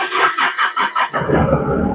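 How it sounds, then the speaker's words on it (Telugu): A 2013 Mahindra Bolero SUV engine cranks with rapid pulsing turns, then catches and settles into a steady idle, close and loud. "సో మనం ఇప్పుడు ఇంజన్ కూడా స్టార్ట్ చేద్దాము సో ఇంజన్ స్టార్ట్ చేసేద్దాము"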